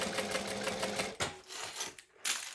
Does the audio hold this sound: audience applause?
no